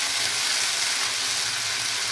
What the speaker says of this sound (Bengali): আদা বাটা 2 চামচ নিয়ে একটু হালকা নাড়িয়ে ভেজে নেব।